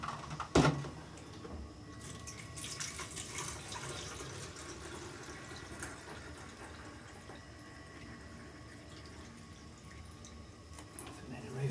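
Homemade cider poured steadily into a funnel while brewing in a Youngs Brew Buddy 40-pint kit, a continuous close trickle and splash with a brief knock near the start and people talking around it.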